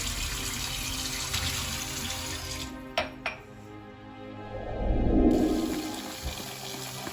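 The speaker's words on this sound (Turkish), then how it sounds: "Oğlum ellerini yıkarken suyu boşa harcama" Water rushes from a tap during handwashing, a steady close splashing that briefly gives way to a couple of sharp clinks before the flow swells again.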